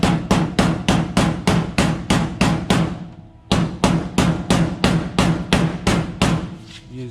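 Hammer striking a metal floor pan into a groove while installing Ford F-150 floor pans, a fast, even run of sharp metallic blows, close and loud, with a short pause midway before the rhythm resumes.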